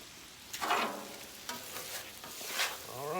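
Stir fry cooks on a grill set to low, giving a quiet, steady sizzle with a few soft scraping stirs and crackling bursts; no one speaks.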